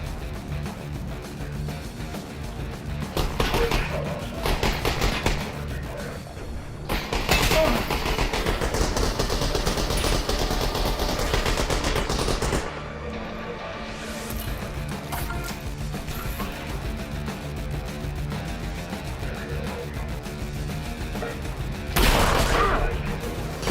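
Gunfire in a VR shooter game, Boneworks or Half-Life: Alyx, comes as loud, dense bursts of rapid shots that run almost the whole stretch, with short gaps between volleys and a few heavier blasts near the end.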